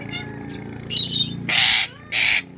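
An eclectus parrot gives several loud, harsh calls in bursts, the last two longest and strongest, over a low background hum.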